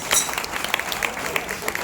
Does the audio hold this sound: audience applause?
yes